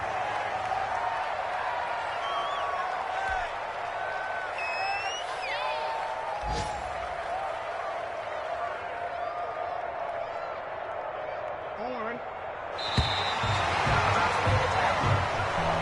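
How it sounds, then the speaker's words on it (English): A home crowd applauds in a Madden football video game, a steady, distant wash of crowd noise and clapping under talk, with brief whoops, a couple of sharp thuds, and a louder swell near the end. "And the home crowd applauding."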